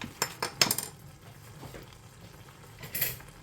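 A metal spoon stirs saag in a cooking pot, making a few quick clinks and scrapes in short bursts, near and fairly soft, with a light sizzle underneath.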